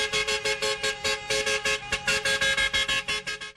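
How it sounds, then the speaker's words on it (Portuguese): Car horns blare in a rapid, continuous run of overlapping honks from a protest motorcade through central Maringá, loud and close, with no voices. "O buzinaço foi pela retomada das atividades econômicas na cidade."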